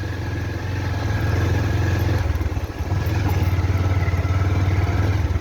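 Close motorbike engines rumble steadily on a forest road, a throbbing low drone with clatter that dips briefly near the middle and then resumes at full loudness, no speech.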